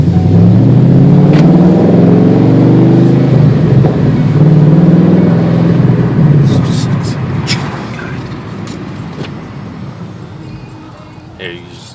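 A stock 5.0 V8 car engine fitted with an outlaw exhaust revs loudly and close by, its deep rumble rising and falling before settling toward idle, while people talk over it.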